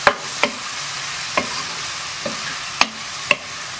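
Kerala-style mushroom roast stirred in a pan with a utensil after salt is added, giving a handful of sharp scrapes and taps over a soft background sizzle.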